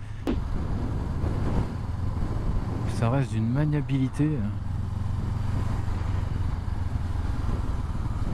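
A 2019 Honda CB500X trail motorcycle on a test ride gives a steady, low engine drone throughout, with a rider talking over it.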